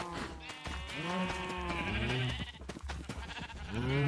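Sheep in Minecraft bleating repeatedly, several wavering baas in quick succession at close range, over a low steady game background with little else.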